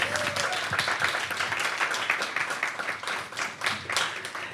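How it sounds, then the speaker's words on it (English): An audience applauds for a DJ at a music industry talk, a dense, continuous round of clapping at moderate loudness throughout. "So a round of applause,"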